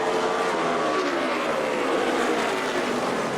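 NASCAR stock cars roar past on the track during a race, a loud, continuous engine drone with shifting pitch as the field runs close together.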